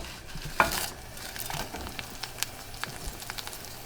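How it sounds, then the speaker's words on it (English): Pepper fries in hot oil in a pan, a faint, steady sizzle with a few soft clinks and stirring scrapes, heard close up with no talking. "Now the oil, when it's hot, I do like this. You see the pepper bubble?"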